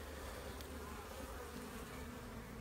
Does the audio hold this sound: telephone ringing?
no